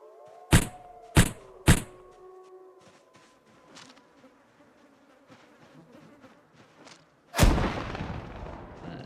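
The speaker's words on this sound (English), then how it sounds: "Have I mentioned that NPCs sometimes shoot through walls?" Three sharp, loud gunshots in quick succession from bandit NPCs in Project Zomboid, followed by quieter game ambience and a heavier blast-like burst near the end.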